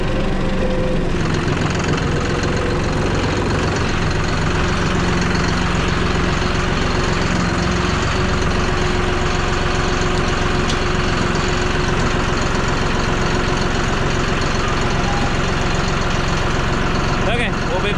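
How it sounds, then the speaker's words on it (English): A farm tractor's engine runs steadily and loudly for the whole stretch while gravel is box-bladed and hay is fed, giving a dense mechanical rumble with a faint voice under it. "Pretty good tractor."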